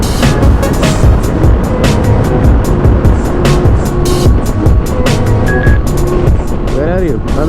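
Triumph Tiger and Kawasaki Z900 motorcycles cruise at highway speed, about 81 km/h, with constant loud wind rush and engine roar. Riders talk over it throughout.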